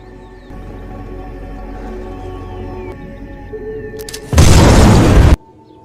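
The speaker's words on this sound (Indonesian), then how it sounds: "dan hasilnya ledakan yang terjadi pun sesuai yang diharapkannya" A sudden loud, broadband bomb explosion erupts after a low rumbling build-up, roaring for about a second before cutting off abruptly.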